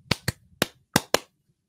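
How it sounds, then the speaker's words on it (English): Five sharp hand claps ring out alone in an irregular burst, loud and close, in a quiet room. "it's a quick little clap"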